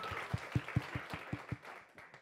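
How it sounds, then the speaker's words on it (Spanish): Church congregation clapping their hands during a service, a quick burst of loud individual claps with a steady rhythm over a soft room murmur. "Un buen aplauso."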